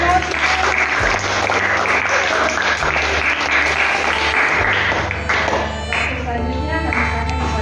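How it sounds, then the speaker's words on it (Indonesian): Sustained applause from the audience at an English course closing ceremony, dense steady clapping from a room full of people, with talking heard over it near the end. "Kita berikan aplaus dulu untuk Sermeti."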